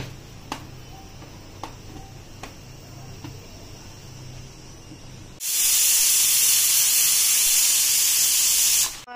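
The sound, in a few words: pressure cooker steam hissing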